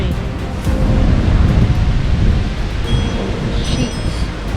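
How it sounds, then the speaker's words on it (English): Heavy rain pours steadily and loudly through a severe storm with high winds, a dense, unbroken roar of broadband noise sustained for several seconds with no speech. "this is some heavy rain."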